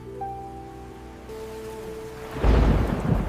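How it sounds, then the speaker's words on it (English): Heavy rain bursts in suddenly after a quieter stretch of low rumbling thunder, a dense broadband wash of rainfall that stays loud to the end. "I hear thunder."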